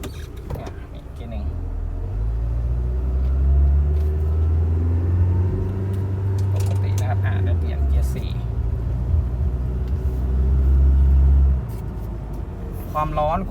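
A 1995 Honda Accord with sunroof pulling away in first gear, engine droning and rising in pitch with a steady low rumble and road noise from inside the cabin, while someone talks over it.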